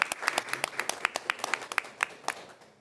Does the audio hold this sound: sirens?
no